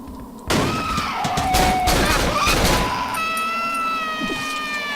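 Gunfire in the horror video game Cry of Fear, a sudden burst of loud shots followed by sustained noisy clatter and ringing tones, close and alone without talk.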